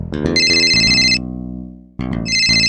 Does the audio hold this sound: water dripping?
no